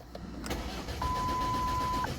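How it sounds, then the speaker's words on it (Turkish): A car engine cranks without catching, its starter churning steadily while a thin electronic beep sounds for about a second. The car has an injection pump fuel metering control fault. No one speaks. "Bakın araba çalışmıyor."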